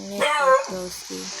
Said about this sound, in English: Don't worry, that was my dog.